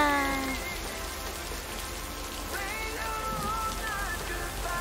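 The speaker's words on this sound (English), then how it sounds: "The rain is so loud." Heavy rain pours steadily, a loud, dense wash of drops drumming on surfaces. A few faint whistling tones drift through early and midway, and no talking is heard.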